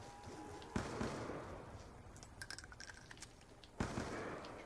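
Gunfire in Black Ops Zombies on the Farm map rings out as a few loud bursty blasts, likely shotgun fire, separated by quieter busy game noise, fairly faint overall.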